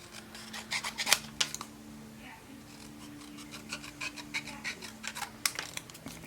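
Paper is cut out by hand with scissors in a craft setting, giving irregular bursts of crisp snipping and rasping rubs against a quiet background hum, with no clear talking.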